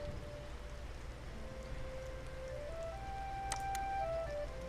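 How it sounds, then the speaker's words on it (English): Steady rain in the video game Fabledom, a soft continuous wash that holds even throughout, with faint game music tones and a couple of brief chime-like blips near the end. "It's raining now."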